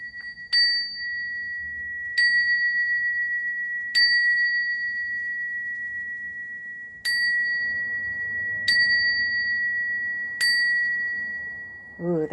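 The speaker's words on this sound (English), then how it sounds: "I'm ringing a bell." A bell is struck six times at roughly even intervals, each clear, bright tone ringing out and slowly fading, close by with nothing else around it.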